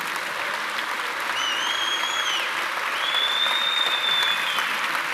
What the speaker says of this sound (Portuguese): Eu gostaria de convidar você a abençoar Jesus com um aplauso.